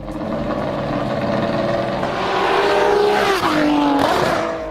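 A Ferrari 599XX track supercar engine howls close by, pitch rising and falling as it revs and shifts, loud and continuous with no voices.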